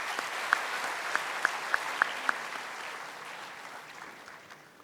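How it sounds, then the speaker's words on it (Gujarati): Audience applause at a spiritual discourse gathering, a soft, steady wash of clapping with a few sharp individual claps standing out early on, gradually tapering off. "એમને તાળીઓથી વધાવી લેશો."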